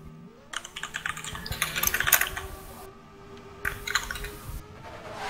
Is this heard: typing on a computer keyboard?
yes